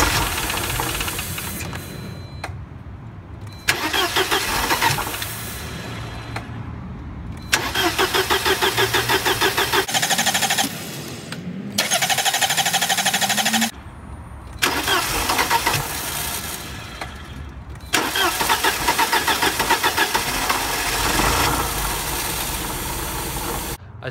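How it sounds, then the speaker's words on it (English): Mercedes 190E being started with cranking bursts separated by brief silences, the engine catching and running roughly between attempts, close and loud with a knocking, uneven idle. "I'm gonna get a fire extinguisher and try to fire this up and see how it goes"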